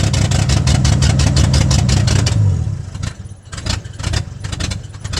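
A 1981 Ford tug engine runs rough and loud with a strong pulsing beat, the roar dropping away midway to an uneven, sputtering, stumbling idle that fades in and out.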